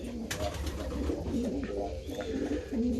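Young racing pigeons in a loft coo repeatedly in soft, throaty rolling calls close by, several birds overlapping with a constant low ambient hum beneath.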